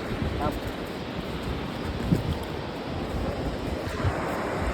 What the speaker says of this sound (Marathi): इकडनं पाणी बघा कसं वाहतंय